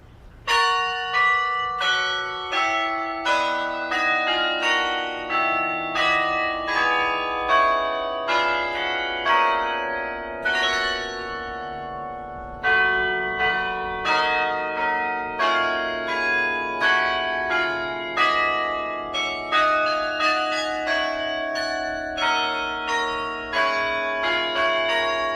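A 47-bell carillon tower rings out a steady melody, each bell struck clearly in a loud sequence of overlapping resonant tones with a brief pause midway.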